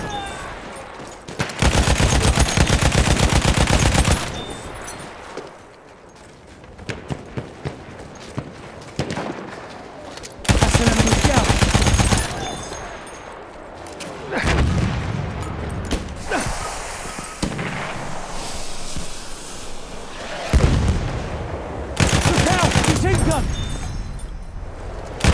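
Machine gun fire in Battlefield 1 on the Albion map, played on PC, comes in several loud, sustained bursts separated by quieter stretches of mechanical creaks and distant battle noise, with occasional in-game voice chatter.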